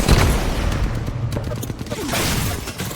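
Rapid gunfire in the Apex Legends video game, a dense volley of shots and mechanical clatter that stays loud through the whole stretch, with no speech over it.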